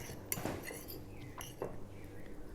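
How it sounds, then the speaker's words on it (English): Eggs and chia seeds are mixed in a bowl, making a few clinks and taps of a utensil against the dish over a low background hum. No one speaks. "So I'm just going to mix everything together."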